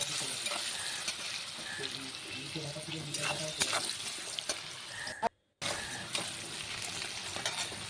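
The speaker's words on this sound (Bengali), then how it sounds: "এবার খুব সুন্দর করে ভালো করে লাল লাল করে ভেজে নিতে হবে" Sliced potatoes sizzle and crackle in hot oil with salt and turmeric while being stirred for a vegetarian banana-flower dish, a steady broadband fry with a brief dropout near the middle and occasional utensil scrapes.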